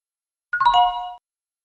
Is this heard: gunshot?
no